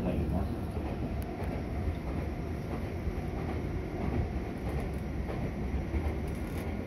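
Steady rumble of a Meitetsu 3150 series electric train rolling along the rails between Meitetsu Nagoya and Kanayama, with faint rhythmic clatter from the wheels, continuous and fairly close, no speech.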